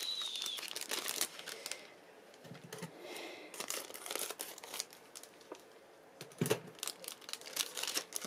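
Sticker package being opened by hand, with bursts of crinkling and tearing plastic and paper at close range, quiet pauses between handling noises, no talking.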